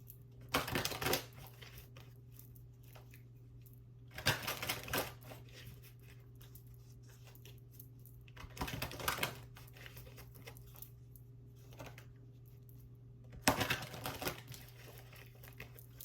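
Oracle cards are shuffled in three or four short bursts of close papery riffling and crinkling, separated by quiet pauses over a low steady hum.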